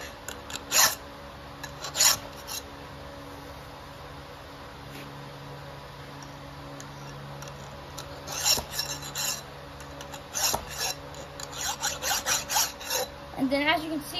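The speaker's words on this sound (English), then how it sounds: "that's how you sharpen a chainsaw blade" A hand file rasping across a chainsaw chain while it is sharpened, with scattered scraping strokes early on that build into a steady, rhythmic back-and-forth filing near the end, close and fairly loud.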